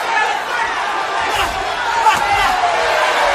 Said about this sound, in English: The crowd urging him on here.